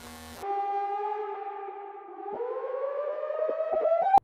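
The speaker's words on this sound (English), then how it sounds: "Sirens and strobe lights warn everyone inside the building." Building fire alarm siren wailing loudly and steadily on its own, its tone holding level before rising in pitch toward the end, then cutting off abruptly.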